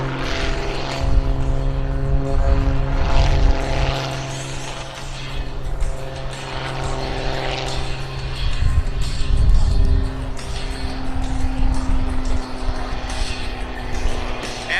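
An Eagle 580 aerobatic propeller airplane performs at an airshow, its engine droning loudly and steadily with rising and falling surges as it climbs nose-high, continuous throughout.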